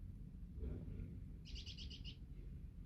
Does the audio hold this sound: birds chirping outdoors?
yes